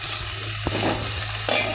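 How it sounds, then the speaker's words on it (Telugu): Marinated chicken curry with chillies fries loudly in a pan, a dense, constant sizzle with two sharp knocks of the spoon as it is stirred. "ఇది కొంచెం ఫ్రై అవ్వాలి గైస్."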